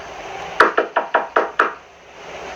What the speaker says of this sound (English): the knock at the bedroom window